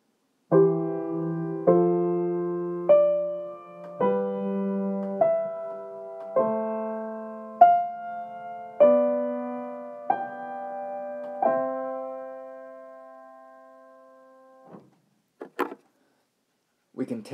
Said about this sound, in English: 5-6 progression, which diatonically sounds like this